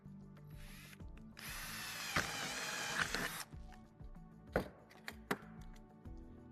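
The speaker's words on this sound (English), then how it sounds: "I'd like to drill a hole through it and see how that goes" A power drill with a 1/4-inch bit whirs and grinds loudly in close bursts, chewing through a 2.5-inch SSD, with a few sharp clicks and clatters afterward.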